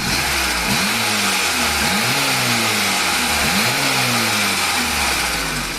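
A VAZ 2106 car engine runs steadily and loud up close, its pitch dipping and rising in repeated labouring surges over a broad whooshing roar.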